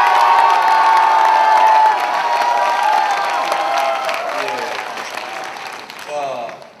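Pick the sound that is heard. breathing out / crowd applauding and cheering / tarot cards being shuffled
crowd applauding and cheering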